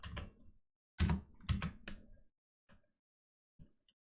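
A few quiet computer keyboard taps and clicks while entering a shortcut in Blender, in short clustered bursts separated by silence.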